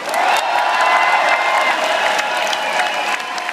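An audience at a funk concert finale in Derry cheers and applauds loudly and continuously, with whoops rising over dense clapping.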